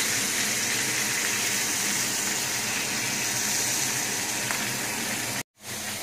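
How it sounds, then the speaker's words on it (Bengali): Salmon pieces fry in oil, giving a loud, dense, continuous hiss and crackle close by that cuts out abruptly near the end. "এটা সিম্পলি তেলের ভিতরে দিয়ে হালকা করে ভাজি করে নিচ্ছি আমরা"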